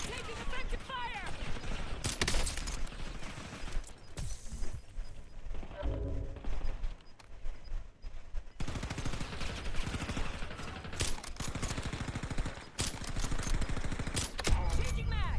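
Gunfire in the video game Warzone, dense repeated shots and mechanical clatter running nearly throughout at close range, with radio-style voices mixed in.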